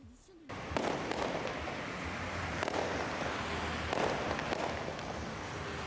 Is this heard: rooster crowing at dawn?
no